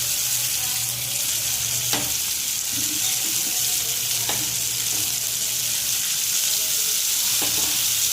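Chopped vegetables with tomato and salt sauté in a hot pan for South Indian vegetable kurma: a steady, close sizzle with a few sharp spoon scrapes and stirring clicks, and no talking.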